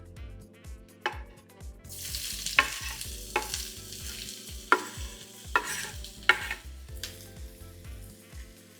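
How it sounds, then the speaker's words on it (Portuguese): Onion frying in hot olive oil, with a soft background sizzle broken by repeated scraping and knocking strokes of stirring, close and fairly quiet, no speech. "Azeite quente, vamos entrar com a cebola."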